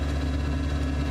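A snow blower engine runs steadily while clearing snow, a continuous low droning hum with a slight vibration, close and even throughout with no voices.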